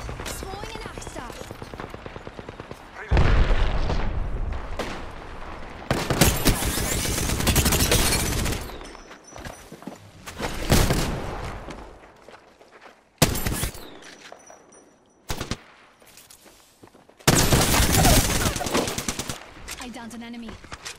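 Bursts of automatic gunfire in the Apex Legends battle royale game, loud sustained volleys broken by short pauses and scattered single shots, with game voices and talk faintly underneath.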